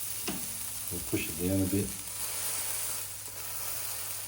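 A steak sizzles in a frying pan in a home kitchen, a steady soft hiss that runs throughout, briefly under a short spoken remark.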